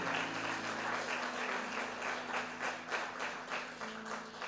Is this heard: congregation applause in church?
yes